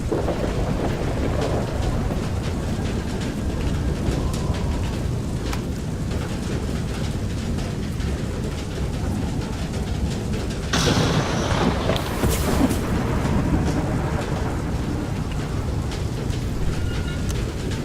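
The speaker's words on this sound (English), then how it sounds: "I love the noise of the rain on the metal." Steady rain pattering on the metal hull of a wind-driven vehicle in the video game Far: Lone Sails, a dense continuous wash with rumbling thunder underneath and a brighter hiss swelling briefly near the end.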